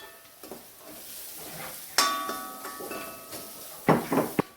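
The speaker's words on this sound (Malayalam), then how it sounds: "നമുക്ക് ഇച്ചിരി പെരുംജീരകം പൊടിച്ചതും കൂടെ ഇട്ട് ഇളക്കാമേ, വഴറ്റിയെടുക്കാം." Soya chunks being stirred and sautéed in a pan with salt and ground fennel, a spoon scraping and clinking against the metal over a soft sizzle, with a few sharper knocks near the end.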